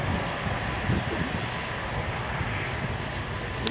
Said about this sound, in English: Takeoff in question being performed by the Alenia C-27J Spartan.